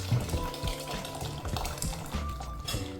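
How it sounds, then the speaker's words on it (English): Dal soup poured into a hot pan of tamarind tadka, a loud liquid splash and sizzle with clinking pot sounds, steady and close throughout. "straight away you will add your dal soup into the pan"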